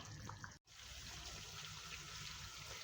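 Cooked meat being drained from its broth, with a steady stream of liquid pouring and trickling continuously, fairly faint, with one brief dropout near the start.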